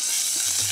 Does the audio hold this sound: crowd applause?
no